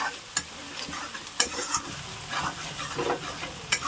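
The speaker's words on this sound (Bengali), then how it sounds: "মশলাটা একটু বেশি ভেজে নিতে লাগবে কড়া হবে মানে বেশি টেস্ট হবে খেতে" Salted spice paste fries in a pan for a jackfruit curry, with a low crackling sizzle under repeated scraping strokes of a spoon, each stir making a short sharp click against the pan.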